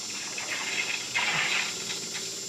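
A misting pump draws water back through its suction line, giving a close, continuous gushing and bubbling flow with a steady whine behind it and a brief surge partway through.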